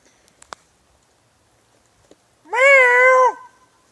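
A single loud, drawn-out meow from a farm cat arriving from the barn for leftovers, close by, following a few faint clicks and taps.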